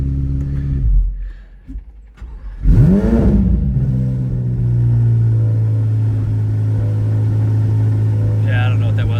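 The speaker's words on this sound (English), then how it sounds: "We'll start the car again," A Chevrolet Corvette C8 Z06 engine is started: a loud cranking catch and rising flare, then a settled steady idle drone, with brief talk before the start.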